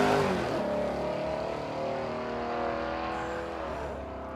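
Drag racing car accelerating hard at a no-prep drag strip event at Warwick Dragway in Australia, a loud sustained engine roar with rising harmonic tones, steady and close throughout with no talk.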